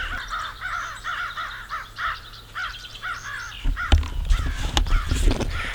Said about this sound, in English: there's a crow fight going on there after an owl over there.